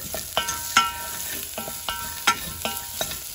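A spoon stirs flour into batata poha in a pan with quick, repeated scraping clinks over a soft, steady sizzle, close and clear.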